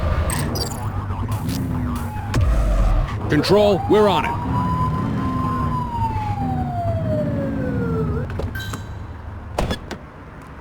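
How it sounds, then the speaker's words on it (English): Police car siren blipped and sweeping in the video game The Precinct, a short wailing tone rising and gliding down over car engine noise, with a radio voice speaking over it. "blip the siren to make them pull over"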